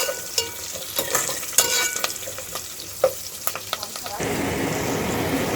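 Cumin seeds browning in hot oil with curry leaves, red chilli and garlic in a pan for kulthi dal, crackling and popping while a spoon clacks and stirs, then settling into a steady close sizzle.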